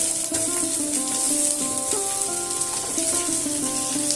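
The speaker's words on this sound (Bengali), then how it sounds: "আলু পটল আর কাঁঠালের দানাটা কিন্তু এখনও ভালো করে ভাজা হয়নি সেই জন্য আমি এগুলোকে আরেকটু" Potatoes, pointed gourd and jackfruit seeds fry in a pan with mustard oil, giving a steady moderate sizzle with faint intermittent stirring sounds.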